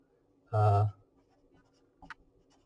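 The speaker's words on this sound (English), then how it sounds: "So let me write that down." Writing on a board during a statistics lecture on hypothesis testing: one short, loud squeaking stroke, then a couple of faint scratchy marks after a pause in an otherwise quiet room.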